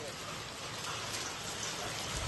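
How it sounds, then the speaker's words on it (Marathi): Hail mixed with rain patters densely and steadily outdoors at a farmhouse near Karjat, a continuous hiss of drops and small impacts with no voices. "गारांचा पाऊस भाईलो गारांचा पाऊस"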